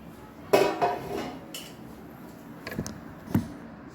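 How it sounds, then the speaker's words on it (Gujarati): A steel plate or thali is set over a cooking vessel to cover steaming semolina-fenugreek dough, giving several close metallic clanks and clinks in quick succession. "જે થાળીમાં તમારે નીકળવું હોય ડીશમાં એ ડીશ કે થાળી આમાં ઢાંકી દેવાની"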